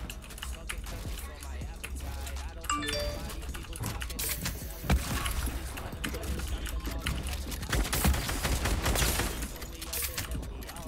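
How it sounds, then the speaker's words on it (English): Rapid gunfire sprayed through a house in Fortnite, repeated sharp shots in quick bursts mixed with keyboard clatter and game sounds. "Oh, I'm shooting through a house?"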